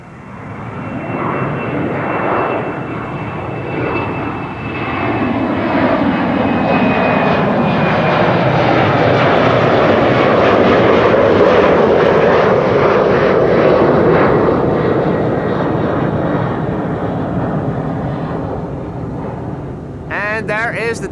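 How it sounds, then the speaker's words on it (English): Two Embraer 190 jets take off from runway 24 at Amsterdam Schiphol, a loud, sustained engine roar that swells and slowly fades. Someone talks over it briefly, and wind buffets the microphone near the end. "Two Embraer 190s taking off from runway 24."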